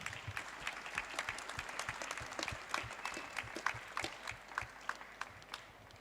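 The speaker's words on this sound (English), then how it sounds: "So can we just have a big round of applause for everyone here?" Audience applause at a publishing conference panel on AI tools for publishers, a steady patter of many hands clapping that swells in the middle and thins toward the end, fairly close and heard on its own.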